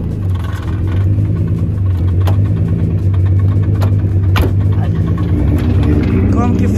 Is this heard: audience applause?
no